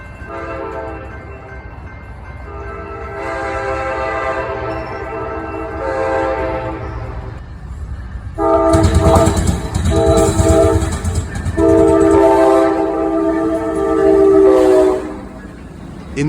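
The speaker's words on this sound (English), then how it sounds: "Floridian number 41 headed from Lakeland, Florida to Tampa, Florida." The Amtrak Floridian passenger train, number 41 from Lakeland to Tampa, passes through Plant City, Florida, sounding long, loud horn blasts in sequence while its wheels rumble and clatter close by.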